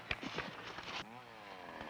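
A chainsaw runs in an old 16mm safety film. The whine is fairly faint and rough, with a rising and falling pitch, and a short rattling buzz comes after it.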